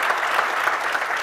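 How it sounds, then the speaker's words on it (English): Brief burst of steady audience clapping for Nicole Walters at a venture capital summit in San Diego, dense and even throughout. "So please give a big round of thanks and applause to Nicole Walters."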